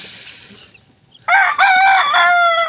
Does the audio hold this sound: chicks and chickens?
yes